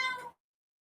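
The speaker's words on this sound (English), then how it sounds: "This daggone cat is driving me crazy." A house cat gives one short, bright meow, close and clear, cutting off abruptly into silence.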